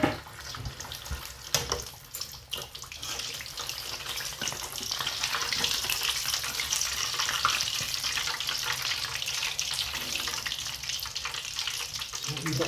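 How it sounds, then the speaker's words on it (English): Pizza fritta topped with prosciutto and broccoli frying in oil, giving a continuous hissing sizzle that swells and stays loud and close throughout, with a few knocks early on. "A wee bit of sizzlage"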